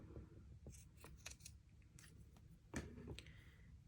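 Scissors snip through decorative ribbon in several close, crisp cuts at an uneven pace, with quiet handling noise in between.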